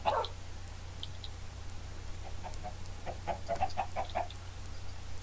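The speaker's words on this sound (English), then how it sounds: "Wait, is that a chicken?" A Minecraft chicken on a Farm Hunt map gives a quick cluck at the start. Later comes a faint run of repeated clucks, close together, over a low steady hum.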